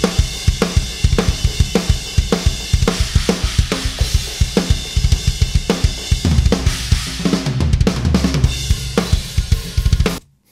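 Metal drum kit played in an unprocessed rough mix, a dense barrage of kick, snare and cymbal hits with rapid double-kick passages, loud and close, stopping sharply at the end.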